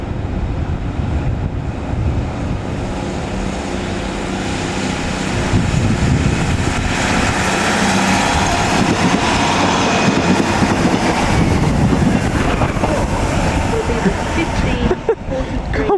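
A Northern train pulls out of Doncaster station toward Sheffield, its low rumble building and growing louder partway through, with voices talking over the noise.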